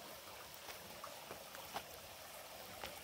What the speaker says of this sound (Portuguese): O barulhinho da água.